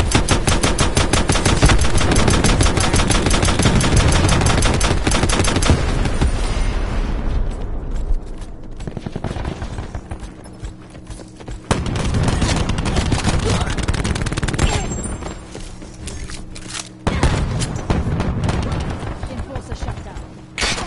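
Rapid machine-gun bursts and explosions crackle through a PS4 shooter match, dense and continuous at first, then breaking into separate volleys with short lulls between them.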